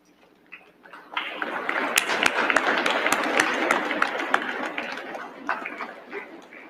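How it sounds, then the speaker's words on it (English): Applause at a Corps of Cadets commencement ceremony for the Class of 2021 builds quickly from scattered claps into sustained, dense clapping from a large audience, then tapers off. "So let's give them a round of applause."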